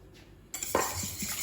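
A coconut milk and lime marinade with coconut water being whisked in a bowl, close-up clinks and scrapes of the whisk against the side, a few quick strokes after a brief quiet start.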